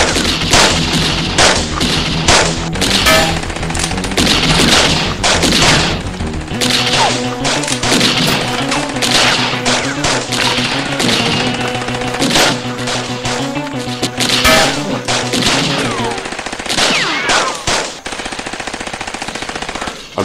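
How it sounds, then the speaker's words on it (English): Sustained gunfire in a film shootout, dense bursts of shots and crashes layered over a loud score, continuing heavily for most of the stretch before thinning toward the end. "Oh, I think they've ceased fire."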